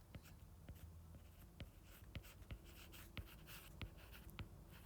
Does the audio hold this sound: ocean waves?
no